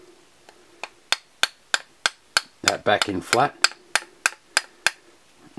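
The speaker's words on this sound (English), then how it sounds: "So to put the filter in, we'll need a hammer." A hammer lightly taps a filter into a Bosch fuel injector, a steady series of sharp metallic ticks roughly every third of a second, close and clear, briefly interrupted by someone speaking.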